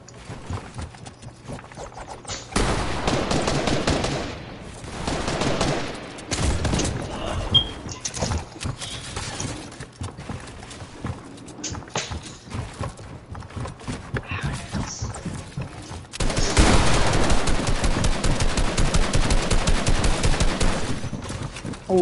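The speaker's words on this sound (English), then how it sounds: "Why would you shoot?" Bursts of gunfire in a battle-royale video game tournament match, with dense rapid volleys loudest near the end, mixed with broadband game noise.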